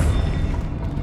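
Depulso force spell cast in the game Hogwarts Legacy, a brief dense booming thud with a low rumble that fills the whole second.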